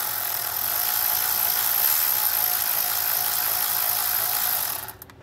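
A fast, continuous ratcheting whir runs loud and close while clamps are tightened for a heat shield on a 2023 Jeep Wrangler 4xe, then trails off at the end; no voices.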